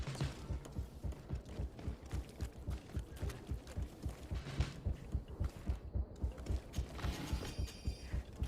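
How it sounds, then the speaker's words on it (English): Heartbeat thumping sound effect in the video game Falling for Greed: a steady, loud, low double-beat pulse that repeats continuously, with faint mechanical hum behind it and no speech. "that heartbeat's just thumping in my ears"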